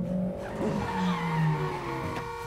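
Car tires skidding in a TV drama scene just before a crash, a sustained squealing screech mixed with engine noise at moderate volume, with no speech.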